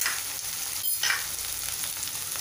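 Ground masala paste sautéing in oil over a medium flame, a continuous close sizzle with light stirring, with no talk.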